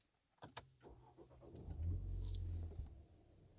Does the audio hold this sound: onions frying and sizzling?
no